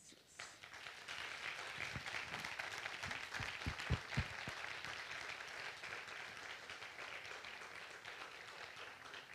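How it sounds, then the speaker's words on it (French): Audience applause at a talk with Marc-André Sélosse, rising quickly after a quiet start into a soft, sustained patter of clapping, fairly faint and distant, with a few louder claps near the middle. "il faut encore qu'on t'applaudisse"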